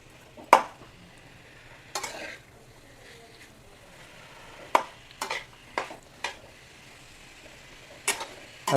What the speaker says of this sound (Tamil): இப்போ நல்ல சிக்கனை கிண்டி விட்ட வேண்டியதான்.